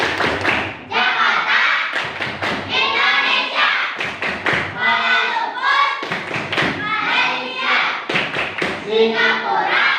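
Group of schoolchildren standing in a classroom performing the ASEAN clap chant, rhythmic hand claps and thumps woven through loud chanted voices reciting capitals in unison, steady and close throughout.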